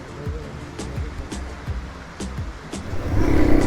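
A vehicle crosses a hanging bridge over a river in Tuli, Nagaland, its engine rumbling steadily with repeated clunks and knocks as it passes, growing louder toward the end.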